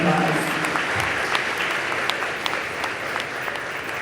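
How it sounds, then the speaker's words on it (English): An audience at an 8th grade promotion ceremony claps for the teachers, a continuous crowd applause with a few sharper individual claps standing out and a faint voice underneath. "Let's give them a round of applause."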